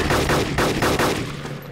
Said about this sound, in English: Does your gunshots sound like they're right next to me?